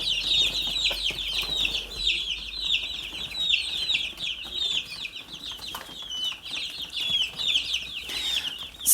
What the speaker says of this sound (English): So these are 2 weeks old broiler chicks.